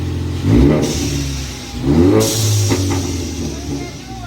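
A 2018 Ford Mustang EcoBoost engine fitted with a bypass valve adapter revs up sharply twice, the second rise longer, with a low rumbling idle in between and faint clatter.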